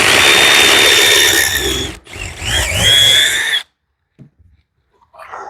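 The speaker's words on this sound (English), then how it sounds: "It's kind of a nasty spot to drill in right there." A power drill whines loudly in two bursts with a brief pause between while drilling to mount a leg on a dust collector, then stops, followed by quiet handling noises.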